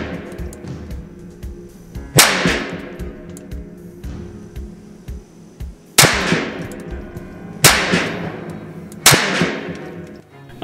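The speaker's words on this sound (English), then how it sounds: "Both guns have been shot." Ruger 10/22 rifles with 16 and 24 inch barrels firing outdoors, five sharp loud shots spaced a few seconds apart, each ringing briefly, with no talking.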